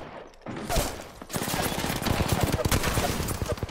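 Rapid automatic gunfire in a shooting video game, dense sustained bursts of shots filling most of the clip, loud and close.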